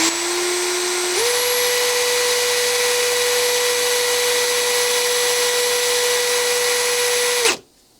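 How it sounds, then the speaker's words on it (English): An engine valve from a seized Volvo 66 (DAF 66) engine spins in a powered tool while a brass brush scrubs it clean, a steady loud high-pitched whine that steps up in speed after a second, holds, then cuts off abruptly. "Just so it's tight, and then spin it and use this brass brush to just get it a bit cleaner."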